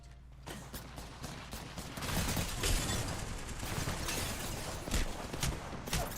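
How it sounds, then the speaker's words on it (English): Video game gunfire crackles in rapid, scattered bursts and sharp impacts under a noisy battle ambience, moderately loud and continuous across the clip. "Some buggers shooting at me"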